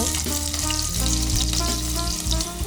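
Onion and ginger fry in hot oil in a pan, giving a loud, continuous close sizzle with faint stirring scrapes and no talking.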